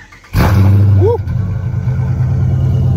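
A Dodge Charger R/T 5.7 engine with long tube headers roars as it revs hard, then settles into a deep, rumbling idle, loud and close.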